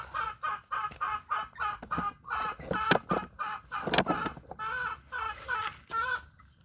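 Chickens clucking repeatedly up close in a rapid, choppy rhythm, with a few sharper squawks mixed in and no talking.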